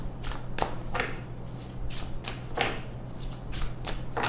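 Tarot cards being shuffled by hand, a run of crisp, rhythmic riffling bursts about every half second, close and fairly loud, with no talk.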